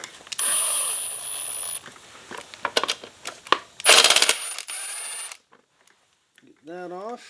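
Metal mechanism clicks and ratcheting as a 12 millimeter bolt is worked loose from a Honda FourTrax ATV brake wheel cylinder, irregular close taps and rattles with a burst of louder scraping, then near silence and a brief squeak.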